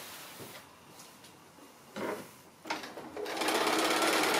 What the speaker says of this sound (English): I'm just stitching the binding onto the back.